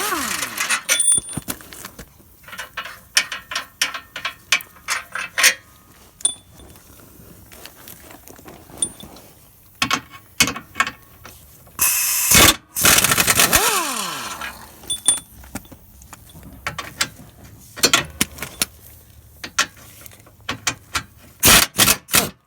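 A ratchet works on transmission brace bolts under a 2012 Toyota RAV4 four-cylinder, giving short clicking bursts and metallic clanks between quiet pauses, with a louder clatter near the middle.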